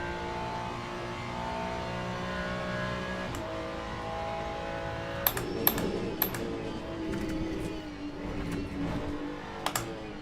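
Race car engine in the Le Mans Ultimate racing game, a steady droning hum with shifting pitch that drops sharply partway through, with a few sharp clicks and pings near the end.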